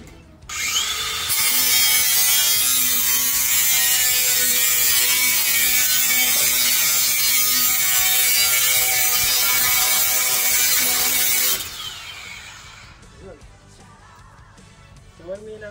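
An angle grinder runs loud and steady for about ten seconds with a harsh, gritty whine, then cuts out and leaves a quieter room with faint handling noise.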